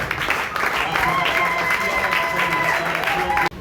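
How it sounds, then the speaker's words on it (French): Church congregation clapping and acclaiming during a Sunday service, steady dense applause with cheering voices sustained throughout, cutting off abruptly near the end. "je voudrais qu'on acclame réellement le Seigneur"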